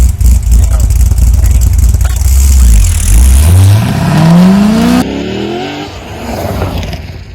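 A Corvette Z06 launches in a short drag race against an RC car, its loud engine roaring and rising steadily in pitch as it accelerates hard, then dropping away abruptly as it pulls off into the distance.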